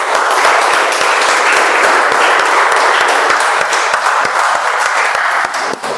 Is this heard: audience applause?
yes